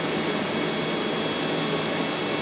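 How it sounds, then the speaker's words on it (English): The cooling fan of a Bitmain Antminer L3+ cryptocurrency mining machine blows with a steady, loud broadband whoosh that stays at a constant level throughout. "the sound of this fan is actually constant, and it's always on"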